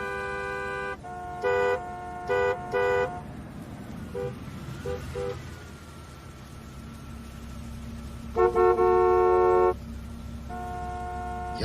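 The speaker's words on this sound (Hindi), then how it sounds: "यार जोया, ये थर्सडे दोपहर को इतना ट्रैफिक होना जरूरी है क्या?" Car horns honk repeatedly in midday city traffic, with several long held toots and short bursts over a steady low rumble of engines, fairly close and with no talk.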